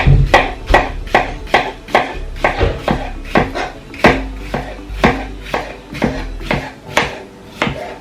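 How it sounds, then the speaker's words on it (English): A whole cucumber sliced with a knife on a board, about twenty crisp, evenly paced chops close to the listener, each a sharp tap with a brief woody thud, with no talking. "This one full cucumber, I will slice it."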